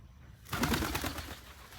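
A pigeon close by in a workshop where a Factory Five GTM supercar is being painted gives a brief burst of low cooing and rustling that starts abruptly and holds steady for over a second, with no talking.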